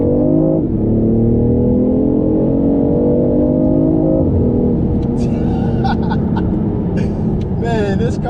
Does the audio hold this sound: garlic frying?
no